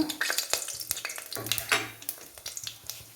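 Mustard seeds, cinnamon, cloves, mace and cardamom crackle and pop in hot oil, a busy irregular sizzle with sharp bursts and a stirring scrape partway through.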